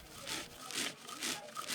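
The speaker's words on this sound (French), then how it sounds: "Enlevez les graines de la marmite et brisez-les à chaud avec une meule." Hot roasted seeds are crushed on a millstone with a repeated grinding, rubbing stroke, about four slow back-and-forth passes heard up close at moderate volume.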